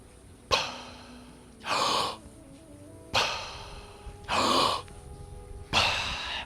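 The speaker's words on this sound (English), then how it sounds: "A lot of emphasis on the inhale, wide mouth." Hook breath breathing technique: three strong wide-mouth inhales, each a loud rushing pull of air followed by a shorter breathy release, repeating in an even rhythm, close and alone.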